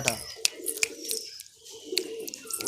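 Andhra pigeons in a large loft in Kolkata, giving soft coos mixed with sharp high chirps and flutters, fairly close and moderately loud, with brief quiet gaps between the calls.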